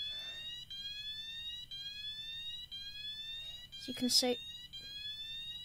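A red T2 Solutions sounder beacon alarm sounds a repeating rising electronic tone, sweeping upward over and over at a steady pace, with a brief burst of nearby voice partway through.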